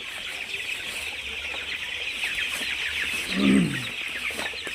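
Chickens kept in a dry, sheltered spot in cold weather cluck softly over a steady background hum, with one louder, lower cluck rising briefly near the end.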